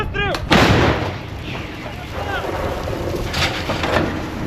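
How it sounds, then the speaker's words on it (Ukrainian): A Ukrainian Bohdana self-propelled howitzer fires a single loud artillery shot outdoors, a sharp blast followed by a long rumbling echo and wind noise, with a brief voice shouting just before. "Гармата! Постріл!"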